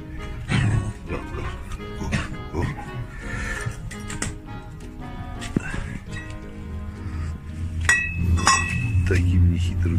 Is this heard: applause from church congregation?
no